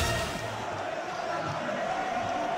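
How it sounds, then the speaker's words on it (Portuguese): Stadium crowd roaring and cheering after a goal in the football video game PES 2019, a dense continuous wash of fans at steady volume. "A torcida tá feliz."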